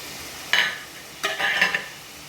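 Onions with salt, curry leaves and ginger-garlic paste sauté in a pan for prawn gravy, heard as two or three short bursts of sizzling and scraping stirs set against quiet gaps, close and clear with no talk.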